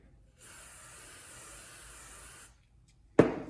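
Aerosol glue can sprays in one steady two-second hiss, close and alone, onto a workpiece while building a striker plate jig, followed by a sharp knock as a piece is set down.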